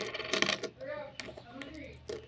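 Coins being counted by hand, with several small metallic clinks and jingles close up and a quiet pause between bursts.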